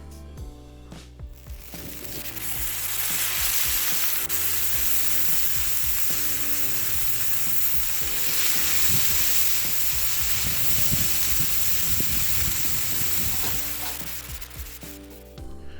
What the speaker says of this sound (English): Once the left side of the griddle was above 500 degrees, it was time to start cooking.